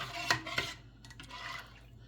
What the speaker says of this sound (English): You want to keep stirring it